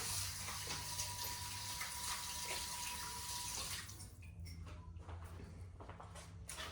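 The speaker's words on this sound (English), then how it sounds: "Let me wash my hands." Tap water pours steadily into a sink for handwashing, a close continuous rush that shifts partway through into a more broken splashing as the hands move under the stream.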